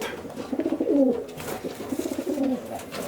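A racing pigeon coos inside a loft at a Greater Seattle racing pigeon club, a few soft, low throaty rolls close by against quiet background noise.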